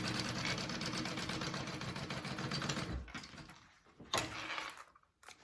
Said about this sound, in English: I'm just going to sew that down real quick.